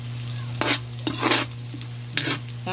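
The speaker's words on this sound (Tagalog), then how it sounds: "Lutuin lang natin ng kaunti yung bawang." Garlic sizzles in a frying pan under a steady hum while a utensil stirs it, giving three scraping, sizzling bursts close to the listener with no talk.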